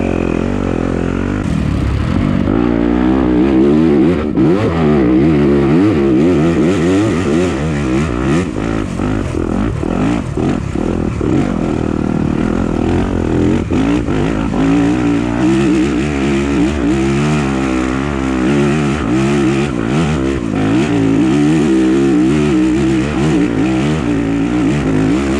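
A stock Yamaha YZ250F dirt bike races a harescramble, its engine loud and close, revving hard and dropping back repeatedly through gear changes and throttle bursts with no break in the roar.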